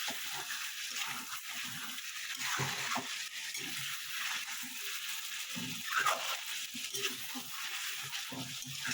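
Chicken and potatoes for a curry sizzle in a pan, with a continuous fry hiss broken by repeated scraping, stirring strokes at close range and no talking.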